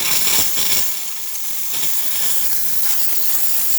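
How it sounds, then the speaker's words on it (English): A Rancilio espresso machine's steam wand purges with a loud, steady hiss, the rushing steam swelling in brief surges before settling into a continuous spray. "nice steady steam coming out of the machine"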